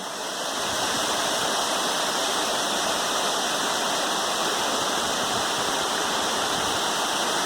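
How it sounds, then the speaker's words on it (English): Cascading waterfall at Jones Falls on the Appalachian Trail, a dense, steady roar of rushing water that stays loud and unbroken from start to finish, with no voices over it. "Lovely cascading waterfall."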